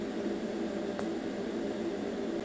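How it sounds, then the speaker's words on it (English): TIG welding arc in argon shielding gas, held at a very long arc length on metal, gives a steady, even hiss with a faint buzzing tone underneath. "now we have a crazy arc length"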